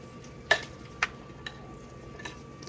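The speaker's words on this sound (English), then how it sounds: "Just give it a quick stir because it's been setting." A spoon stirs breakfast cake batter in a bowl, making a few sharp scraping clicks spaced about half a second apart, with quiet background between them.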